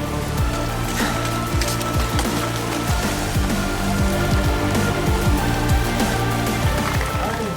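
Steady rain patters and splashes on the ground during the SaintéLyon 2018 night trail race, a dense, continuous wash of drops with scattered sharper taps, fairly loud and close throughout.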